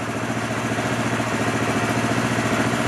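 An AJP PR7 motorcycle engine idles steadily up close, a continuous low mechanical rumble with an even pulsing rhythm and no other sounds.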